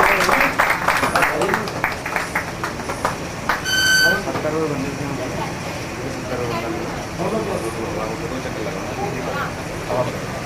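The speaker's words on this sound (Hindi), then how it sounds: "हाँ जी तालियां बजा सकते हैं स्वागत" A wedding crowd gives a brief round of welcoming applause at the start, then the clapping fades as people talk and a steady background murmur takes over.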